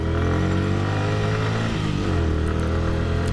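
A motorcycle engine drones loud and steady in second gear while climbing the steep Dim Pahar hill, a continuous labored roar with slight rises in pitch and no gaps.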